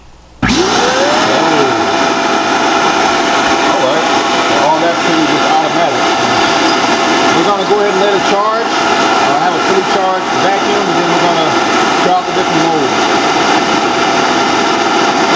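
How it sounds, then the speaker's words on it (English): A robot vacuum's dock empties dust into a bag: a loud, steady roaring suction starts abruptly and drones on without a break, with a warbling mechanical whine over it throughout. "it's automatically going to take whatever dust is in here and push it through this bag here."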